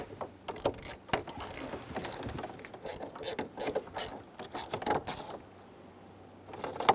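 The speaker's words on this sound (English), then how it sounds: "Install the screw into the bottom of the cover." A screw being fitted into the bottom of the steering wheel cover on a GMC K1500 pickup, heard as close clicking, ratcheting and small rattling taps in irregular bursts, with brief quiet gaps.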